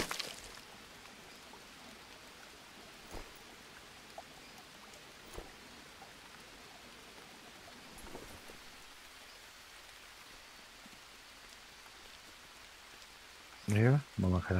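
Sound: rain falling

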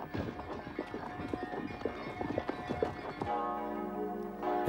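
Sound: horses' hooves clip-clopping

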